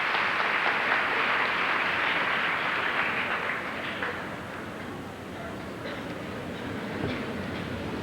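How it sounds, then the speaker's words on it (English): An audience at a 1984 senior academic recognition ceremony gives scholars a sustained round of applause, a dense, steady roar of clapping that fades a little toward the end. "Please give these scholars, as well as those other students who participated, a big round of applause"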